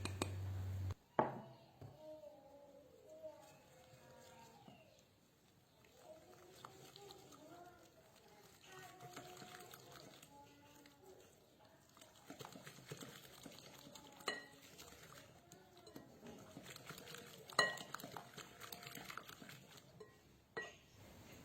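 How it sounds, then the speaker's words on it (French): Yeast, sugar and semolina being stirred by hand with a whisk in a bowl for homemade pizza dough, giving soft scraping and occasional clinks against the bowl over a steady background for about twenty seconds. "je mélange un peu juste avec le fouet à la main"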